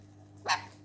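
An Alexandrine parrot imitates a dog's woof with a single short, bright bark-like call at close range, rising out of a steady low hum.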